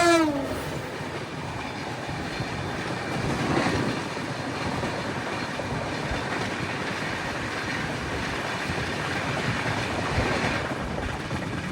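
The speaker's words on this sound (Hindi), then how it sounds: "धौली एक्सप्रेस के साथ अपनी क्रॉसिंग होने वाली है" The Dhauli Express crossing a passing train near Bhadrak, a steady loud rumble of rolling wagons with faint clickety-clack throughout and a brief horn at the very start, heard close from an open carriage door.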